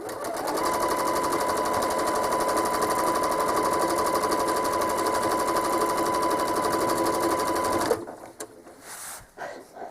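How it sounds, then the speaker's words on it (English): A home sewing machine machine-quilts a quilt, running in one steady continuous stitching burst for about eight seconds before stopping abruptly, leaving quieter room noise. "now I'm going to stitch back again"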